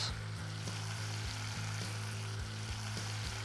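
Tomatoes hit a hot pan and sizzle steadily, a close, even crackle with faint regular knocks underneath and no talking.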